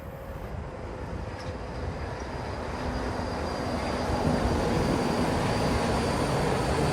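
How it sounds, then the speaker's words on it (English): The Walt Disney World Magic Kingdom monorail passes with a steady broadband rumble and faint high whine, swelling slightly louder toward the end, heard from a moderate distance with no talk. "Monorail,"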